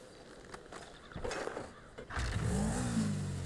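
Motorbike engine in GTA 5 revving up, starting with faint mechanical clicks and short bursts, then a loud sustained rising rev with a climbing engine tone in the final seconds.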